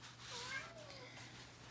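A cat meows indoors, one drawn-out meow rising and falling in pitch, faint and fairly close over a quiet room hum, with no other sound around it.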